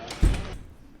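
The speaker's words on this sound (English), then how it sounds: "Just close this fucking door." A door pushed shut indoors, one sharp close thud followed by a short fading rattle, with no talking.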